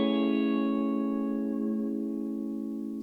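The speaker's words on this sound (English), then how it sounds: "Notice my second preset is the extreme mode, which has the tape sound." A guitar through a Jam Delay Llama delay pedal in extreme tape mode, a sustained chord ringing with warbling tape-style repeats that slowly fade, alone and without talking.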